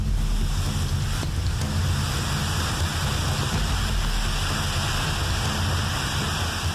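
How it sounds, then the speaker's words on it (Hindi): A flood-swollen waterfall crashes over rocks in a constant, loud, unbroken roar heavy in low rumble, with no voices. "ऐसा जलप्रपात जो चट्टानों को तोड़कर बह रहा है"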